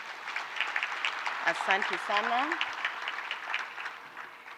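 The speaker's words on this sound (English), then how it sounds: "please let's give her another loud hand of applause" Applause from the audience at the opening ceremony of an accountants' annual seminar in Kenya, steady and moderately distant, with a voice speaking briefly over the clapping.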